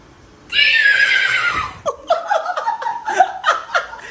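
A person imitates a horse's whinny, a long, high, loud neigh that falls in pitch, followed by several shorter breathy bursts that sound like laughter, close to the listener at home.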